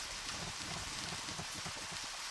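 Steady rain falls in the horror video game Deadly Premonition, a soft continuous hiss of drops pattering on a surface, even and unbroken, with no voices.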